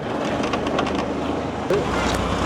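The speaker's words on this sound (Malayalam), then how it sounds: "ഈ കാണുന്നതാണ് ബോട്ടിന്റെ എഞ്ചിൻ കാണുന്നത് കണ്ടോ എന്തൊരു വലിയ എഞ്ചിനാന്ന് നോക്കി" A large boat engine drones steadily and loudly on a canal at a Thai floating market, a low rumbling hum close by with wind noise over it.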